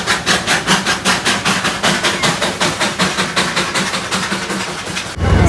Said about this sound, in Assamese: দাৰ্জিলিং টয় ট্ৰেইনৰ কাৰণে বিখ্যাত আৰু আমি ধুনীয়াকৈ ইয়াৰ ৰাস্তাতে পাই গ'লোঁ টয় ট্ৰেইন।